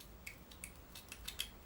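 Faint, repeated snipping and crunching of multi-tool scissors working through cheap rope, several irregular cuts in quick succession with no talking.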